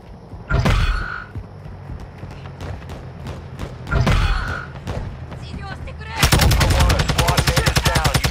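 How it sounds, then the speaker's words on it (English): In Call of Duty DMZ Warzone, two separate heavy gunshots ring out a few seconds apart, followed by a loud rapid burst of automatic machine-gun fire, with voices talking underneath. "You are taking effective fire."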